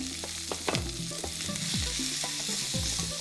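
Onion and green chillies frying in a pan while a spoon stirs them, a bright steady sizzle punctuated by quick scraping strokes and light clinks, close up and without speech.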